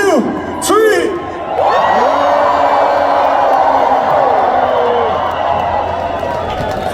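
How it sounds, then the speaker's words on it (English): A huge arena crowd at a concert in Düsseldorf's Mitsubishi Electric Halle screams as loud as it can on a count of three, a sustained roaring wall of shouts and whoops rising after a brief lull. "on the count of 3, let's scream as loud as we can"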